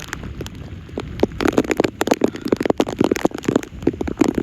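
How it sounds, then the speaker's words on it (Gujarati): Heavy rain falling on village farm fields, patters and splashes close by in dense, irregular bursts, loud and unbroken with no talking. "છે વરસાદ છે અત્યારે"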